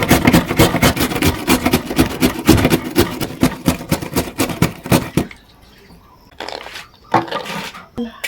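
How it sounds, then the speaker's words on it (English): A carrot grated by hand in a home kitchen, making fast, loud, rhythmic rasping strokes close up for about five seconds, then a pause followed by a few scattered scrapes. "I'll now grate my carrot."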